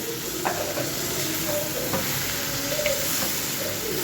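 Potatoes sizzle in hot oil for sabudana khichdi, a steady broadband frying hiss with a few faint scrapes and clicks, no voices.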